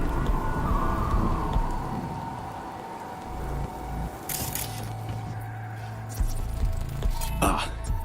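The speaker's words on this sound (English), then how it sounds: "Rain's pouring." Steady rushing rain pours down in a city at night in Cyberpunk 2077: Phantom Liberty, with a low rumbling undertone, interrupted by a few bursts of splashing noise.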